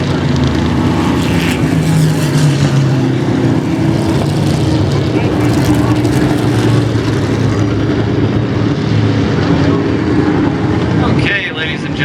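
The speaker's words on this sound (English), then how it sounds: "let you learn more about these beautiful cars on the racetrack right now" Vintage race cars lapping a short oval racetrack during an evening event, heard from the stands as a continuous engine roar rising and falling, with faint public-address talk over it.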